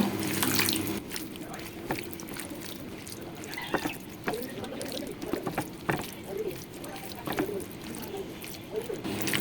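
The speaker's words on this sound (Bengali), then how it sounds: "আমি এখন এটাকে একটু সরিষার তেল দিয়ে দিচ্ছি এবার আমি ভালো মতো মাখিয়ে নেব" Mustard oil poured over marinated chicken pieces, which are then squeezed and mixed by hand, making wet, squelching, slapping sounds in irregular bursts close by.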